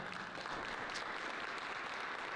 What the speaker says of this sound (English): Can we please give the panelists a big round of applause?